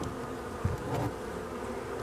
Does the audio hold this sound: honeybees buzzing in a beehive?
yes